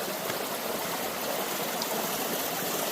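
A stream flowing during an outdoor outing: a continuous close rushing and burbling of water, steady in loudness throughout, with no voices.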